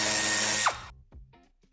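A power driver with a Torx 15 bit whirs loudly and steadily while removing plastic clips during a tow hitch installation on a 2021 Volkswagen Taigo, then cuts off abruptly, leaving faint clicks and handling noises.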